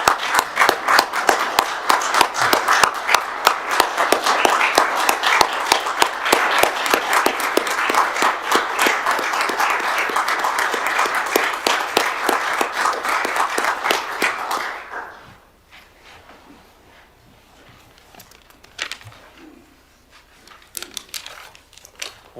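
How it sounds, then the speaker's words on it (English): An audience at a November commission meeting gives a standing round of applause: loud, dense clapping that holds steady for about fifteen seconds, then stops abruptly, leaving a quiet room with a few scattered sounds. "let's please give them a standing round of applause"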